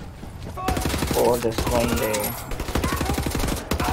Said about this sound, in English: So the machine gun is going to be easier